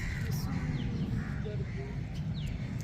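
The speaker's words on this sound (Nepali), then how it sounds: "यो चराको आवाज" Crow-like caws and other bird calls in a forest, moderately distant over a dense, constant rustling background, with several short calls scattered through.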